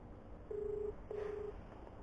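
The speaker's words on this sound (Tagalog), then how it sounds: "Nag-ring na." Two steady ringback tones sound during an outgoing cellphone call, each about half a second long and separated by a short gap, over faint background noise.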